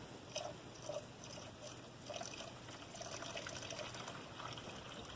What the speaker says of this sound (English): Putting antifreeze in it.